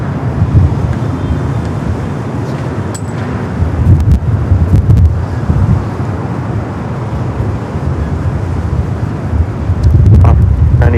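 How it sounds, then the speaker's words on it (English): Gusty west wind at LAX airport, about 15 knots, buffets the microphone with a loud, continuous low rumble and swelling roar, with faint distant traffic or aircraft underneath. "Wind, 15 knots coming out of the west, so a little gusty."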